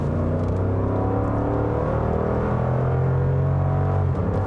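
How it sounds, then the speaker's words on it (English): A 2021 Lexus GX460 V8 accelerating, a steady deep engine rumble with a rising whirring drone, loud and close with no voices. "it actually has a nice satisfying V8 rumble, which I actually like the noise of the V8"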